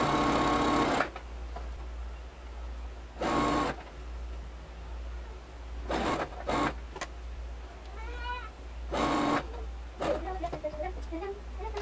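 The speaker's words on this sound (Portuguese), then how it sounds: "E vou costurar bem rente essa bordinha aqui." A domestic sewing machine runs in short bursts while stitching close along a folded fabric edge on a simple dress, each whirring run lasting about a second, separated by quieter pauses with faint handling noises.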